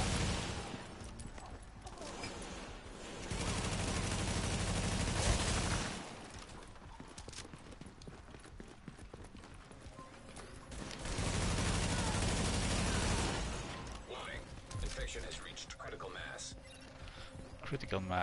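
Bursts of rapid gunfire in The Division on PS4 in two long volleys, with quieter stretches between them and people talking over the action.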